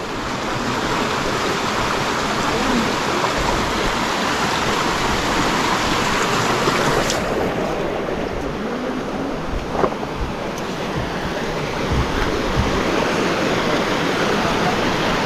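River water at the meeting point of two rivers rushes steadily in a dense, loud, unbroken roar, close by, with voices faintly in the background.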